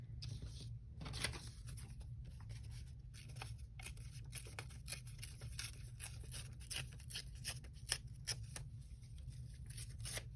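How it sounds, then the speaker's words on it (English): Paper torn away by hand while stencilling with a Stabilo-All pencil, a quiet, close run of irregular ripping and crinkling bursts against soft background hiss. "I'm just going to kind of tear that away"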